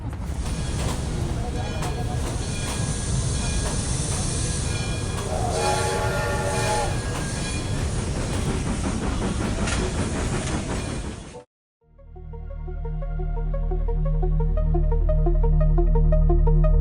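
A train sound effect opens a podcast intro, with a loud rumbling train, clattering wheels and a horn blast running for about eleven seconds, then a brief dropout before droning music swells in.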